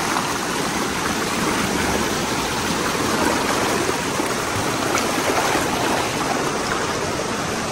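A rushing stream swollen by heavy overnight rain pours in a steady, dense roar of water, close by and unbroken, with no voices over it.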